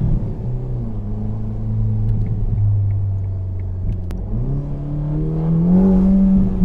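A Ferrari Roma Spider's 3.9-litre V8 with an 8-speed F1 dual-clutch transmission pulls hard in first gear, its engine note rising in pitch under acceleration, loud and close from inside the car.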